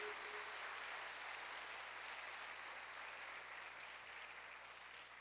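A church congregation applauds, a dense, sustained wash of clapping that fades slightly toward the end.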